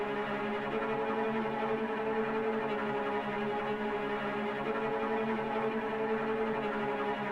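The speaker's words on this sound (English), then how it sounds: "I started off with this simple tremolo string pattern" Sustained tremolo strings from a Session Strings 2 library in Kontakt play a dark, steady pattern on a root note moving up and down between the fifth and sixth, continuous and even throughout with no voices.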